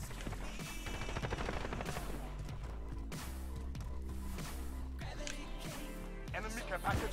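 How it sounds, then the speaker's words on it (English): Modern Warfare team deathmatch battle with an airstrike and gunfire: dense, continuous layered explosions and rapid shots fill the whole stretch, with game music or effects and a voice talking over the top. "This is an airstrike."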